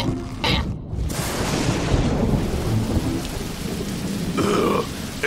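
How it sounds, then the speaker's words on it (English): Heavy rain pouring down in a cartoon, with a deep rumble of thunder rolling through, close and dense, plus a couple of brief sharper noises. "It's raining."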